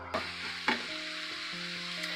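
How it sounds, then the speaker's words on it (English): Ground beef and andouille sausage cook with seasonings in a pan, giving a steady close sizzle and stirring scrapes, with a couple of sharp clinks and faint tonal hum underneath and no talking. "so now we done let that ground beef cook down with them andouille sausages and the seasonings"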